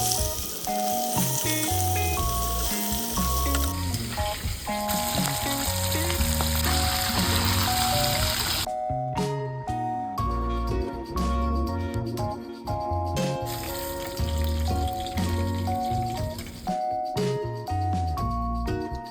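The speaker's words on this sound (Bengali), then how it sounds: "এবার মাছগুলোকে হালকা করে ভেজে নেব।" Pieces of katla fish frying in oil, a steady, fairly soft sizzle running under melodic background music throughout.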